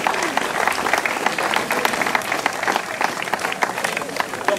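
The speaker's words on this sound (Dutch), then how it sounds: "En nogmaals uw applaus nu voor de winnaar van het jongerenklassement" A crowd at a cycling prize ceremony after a closing time trial applauds the youth classification winner with steady, lively clapping, while an announcer's amplified voice carries over it.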